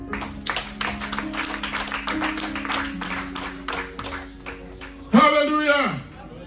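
A church congregation claps in a steady rhythm over a sustained keyboard tone, then a loud voice rises sharply near the end.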